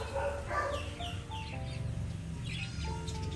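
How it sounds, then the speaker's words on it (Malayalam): Backyard chickens calling and clucking close by in a rural evening setting, a busy run of overlapping chirpy calls and short clucks with no talking. "ഇത് അമ്മച്ചിയുടെ കോഴിയാണ്."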